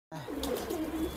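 Pigeons from an old-breed collection coo on a rooftop, a low rolling call repeating steadily and close by with no talk over it.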